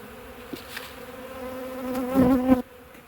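Honey bees buzz around an open hive during an inspection, a close, droning hum that swells louder toward the end before cutting off abruptly.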